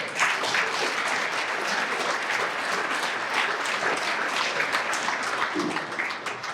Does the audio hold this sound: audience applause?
yes